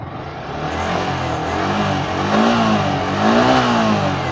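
A BS6 motorcycle engine revving up and settling in steady, rising and falling swells, loud and close with a clear droning tone and no talk.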